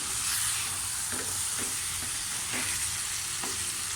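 Fried okra sizzles in a pan of curry, a steady close frying crackle with soft, irregular scrapes and knocks of stirring running throughout, no voices.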